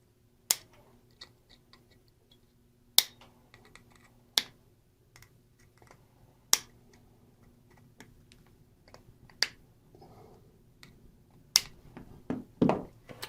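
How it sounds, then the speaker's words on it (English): Flush cutters snip component leads on a nixie clock circuit board, about nine crisp, isolated clicks spaced a second or two apart, close up over a faint steady hum. "So I'm going to cut my leads."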